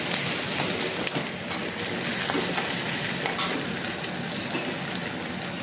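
Ginger frying in a pan for a ridge gourd egg curry, a steady dense sizzle and crackle with occasional soft stirring scrapes, close and continuous throughout.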